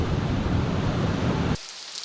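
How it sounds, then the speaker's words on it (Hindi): Steady, soft hiss of light rain falling, even and continuous, then cutting off abruptly to near quiet just before the end. "खिड़की के बाहर हल्की बारिश हो रही थी।"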